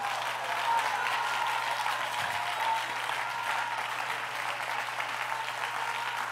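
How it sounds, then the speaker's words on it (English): Church congregation clapping their hands during a lively worship service, a dense, steady wash of applause from many people that holds throughout without pause. "Somebody give the Lord a hand clap."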